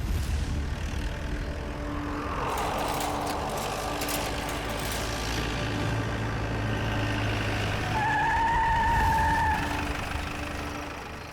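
A car in a Hindi crime drama rumbles along, then skids to a stop with a short, high tyre squeal near the end. The sound is fairly loud and heard without speech.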